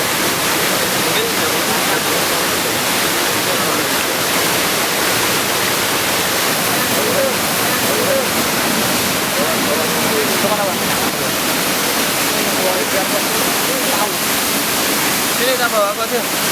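A waterfall on a river, the Curug Sungai Sotok, roars as a loud, steady broadband rush that stays constant throughout with no pauses.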